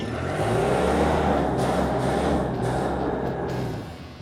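A Mitsubishi S4S diesel engine in a forklift revs loudly and steadily at close range, a deep throbbing roar that holds for about four seconds before easing off at the end.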